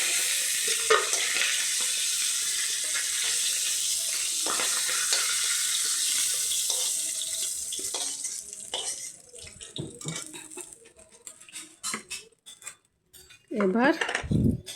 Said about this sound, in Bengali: ভাজা হয়ে গেছে, মাছের মাথাগুলো ভাজা হয়ে গেছে